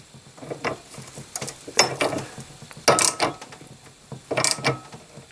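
Wheel nut being tightened with a hand tool on a 1954 Panhard Junior front wheel, giving irregular ratcheting and metallic clicks in several short bursts, fairly close, with no talk.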